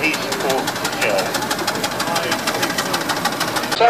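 A steam engine from the Alan Eaton collection runs at the Hollowell Steam & Heavy Horse Show, with a steady, rapid mechanical knocking beat that stays constant throughout under a busy outdoor background.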